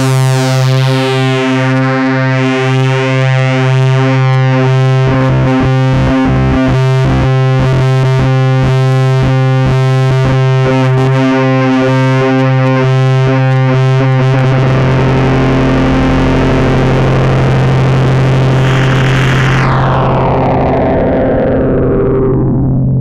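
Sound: Arturia MiniBrute synthesizer with brute factor through guitar pedal

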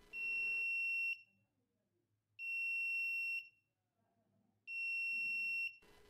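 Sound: buzzer of Arduino LoRa energy meter sounding after power cut

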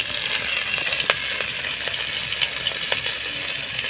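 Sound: whole cumin and green chillies sizzling in mustard oil in a wok

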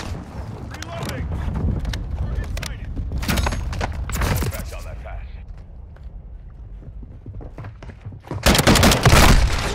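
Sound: Lachmann gunfire in video game Call of Duty Modern Warfare II

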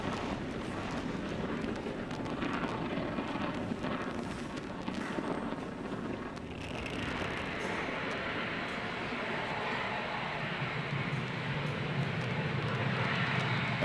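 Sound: SpaceX Falcon 9 rocket launch roar

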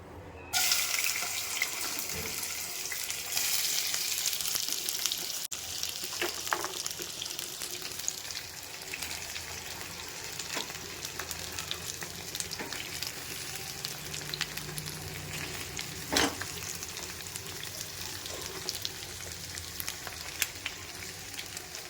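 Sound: chopped tindora (ivy gourd) frying in oil

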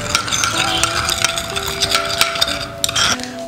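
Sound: stirring mug cake batter

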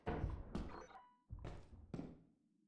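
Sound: Thumper creature thudding in the video game Lethal Company

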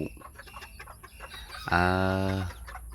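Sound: chickens of a tiny breed clucking

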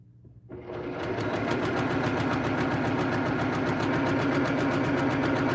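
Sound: sewing machine sewing a quilt panel

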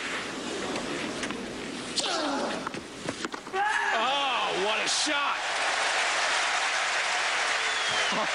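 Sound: tennis crowd applauding at French Open

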